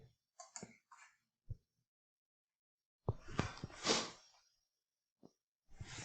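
Sharp mouse clicks while running a PSpice circuit simulation on a computer, a few isolated taps scattered among quiet gaps, close and fairly faint, with a brief burst of broader desk noise in the middle.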